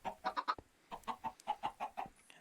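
Video game chickens on a mob farm cluck in quick repeated bursts, a rhythmic series of short clucks with a pause in the middle, clear and close, with no talking.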